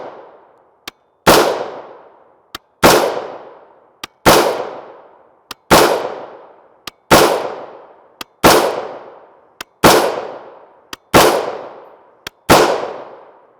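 A rifle fires 5.56x45mm 62gr M855 FMJ ammunition outdoors, nine sharp, loud shots spaced evenly about a second and a half apart, each with a long ringing echo that fades before the next, with small metallic clicks between.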